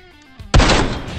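A single sharp, loud sniper rifle shot rings out in a first-person shooter game, with a booming report that decays over about a second after faint quieter game sounds.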